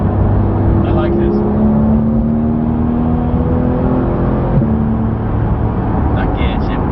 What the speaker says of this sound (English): That gear shift.